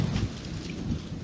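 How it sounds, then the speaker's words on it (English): Rain falling in the woods, a steady dense patter with a low rumble underneath, heard alone without talk. "sure enough, raindrops"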